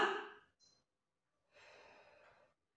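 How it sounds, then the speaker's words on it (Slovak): A person doing a pilates exercise takes a sharp breath, pauses, then exhales slowly and audibly for about a second, close and soft in an otherwise quiet room. "Nádych a výdych."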